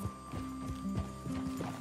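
Horse hooves clip-clopping at a walk in Red Dead Redemption 2, an irregular series of soft thuds close by, alongside a steady hum and occasional tack rattles, with no talk.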